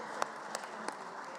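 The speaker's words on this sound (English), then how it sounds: "I would request you that we give a hand of applause to the Secretary General and his entire team" Light, scattered applause in a Geneva assembly hall at the IPU Assembly's Governing Council, with a few distinct sharp claps standing out over a soft, steady patter.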